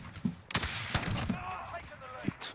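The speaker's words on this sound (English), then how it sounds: "Oh, you're spamming the Barret." A Barrett sniper rifle fired over and over in a Call of Duty match on the map Rust, several sharp, fairly quiet shots a fraction of a second apart, mixed with game noise and brief talking.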